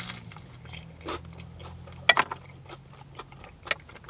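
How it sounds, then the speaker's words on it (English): A crispy battered sausage with mushy peas from a chip shop is bitten close up, giving a few sharp crunches and light clicking chews scattered over quiet moments, with one louder crackle midway. "So you bite into this, you get the crispy, crunchy batter on the outside"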